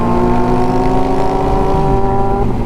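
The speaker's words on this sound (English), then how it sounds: "All these loud bikes, I feel so quiet riding next to everybody now." Loud engine drone of motorcycles riding close alongside, with steady harmonic rumble and a slight pitch shift near the end, continuous without talk.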